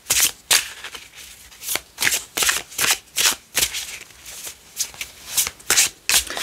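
An astrology card deck being shuffled by hand, a series of quick riffling bursts at an uneven rhythm with short pauses between, close and crisp, no talking.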